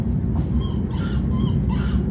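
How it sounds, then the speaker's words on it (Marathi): A steady low rumble of a train getting underway fills the clip, with faint bird calls and brief squeals above the continuous roar. "ट्रेन चालू झाली हो आहे काय काय आवाज येतात बघा"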